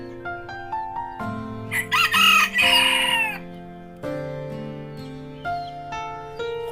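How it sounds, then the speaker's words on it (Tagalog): A white leghorn chicken crows loudly and close at hand in a bonsai garden, one long drawn-out cock-a-doodle-doo breaking out amid steady clucking and soft, tonal calls from other chickens and bantams. "dumating na yung white leghorn chicken."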